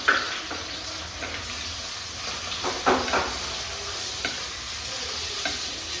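Chopped onion frying in mustard oil for a homemade pasta-pizza sauce, giving a steady hiss with scraping stirs and a few louder spatula strokes around the middle, close and continuous, with no one talking.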